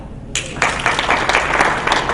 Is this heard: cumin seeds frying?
no